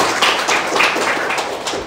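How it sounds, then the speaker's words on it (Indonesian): A church congregation claps for God during a worship service, a dense, steady patter of many hands close by that runs the whole time without a break. "Berikan tepuk tangan untuk Tuhan."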